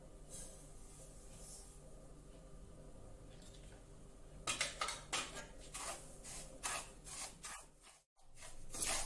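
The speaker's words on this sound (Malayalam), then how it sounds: "ഇനി അതേ പാനിലേക്ക് നമ്മൾ 1/2 കപ്പ് റവ ഇട്ട് റോസ്റ്റ് ചെയ്യാൻ പോവാണ്" Semolina (rava) roasting in a pan on a low flame for rava kesari: a quiet background hum turns halfway through into a run of soft, rhythmic scrapes as a spoon stirs and rubs against the pan.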